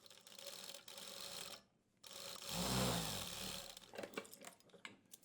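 A sewing machine stitching fabric, a rapid mechanical chatter that runs in short bursts with a brief pause between them, close and fairly quiet, with no talking.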